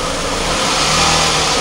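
A car engine misfires under a loud, steady drone after a fault switch is flipped, the revs shifting slightly over a short span, with no talk.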